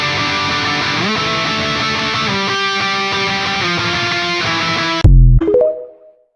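Distorted electric guitar plays octave shapes from a song for Fortnite Festival in a dense, continuous riff, then ends with a loud muted thump and a brief ringing decay.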